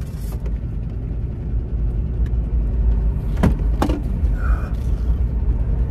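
A 4-liter V8 Land Rover Discovery idles steadily, a low continuous rumble filling the cabin, with a couple of brief sharp clicks and a faint short whine partway through.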